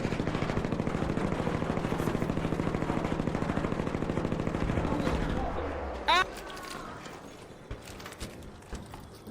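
Rapid automatic gunfire in the video game Arc Raiders rattles steadily for several seconds, then stops, followed by a sharp whizz and scattered clicks, with voices talking underneath.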